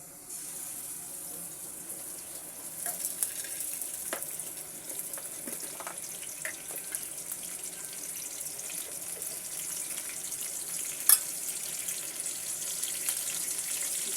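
Onion paste frying in hot oil for a tilapia and yardlong bean curry, a steady soft hiss and crackle running throughout with occasional faint pops and clinks, no talking.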